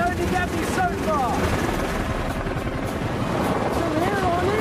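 A helicopter drones steadily and loudly throughout with a dense rotor and engine roar, with faint tonal sounds drifting over the top.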